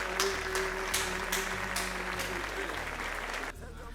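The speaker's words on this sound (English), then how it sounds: "Can I get a round of applause?" A crowd applauds steadily for an interview guest, a continuous clatter of many hands with a low steady hum underneath, cutting off abruptly near the end.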